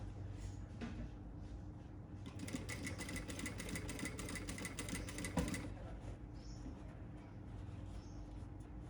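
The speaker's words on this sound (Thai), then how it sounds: "ค่อยๆเย็บไปนะครับ ไม่ต้องรีบร้อนนะครับ" A sewing machine stitches a sleeve onto the body of a shirt, running in a steady fast mechanical whir for about three seconds before stopping, set against quiet room background.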